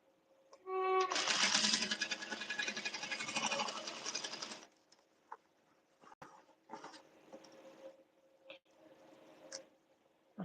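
A home sewing machine runs in a steady, close whirring burst for a few seconds while sewing a garment. Softer scattered handling noises and light clicks follow as it stops.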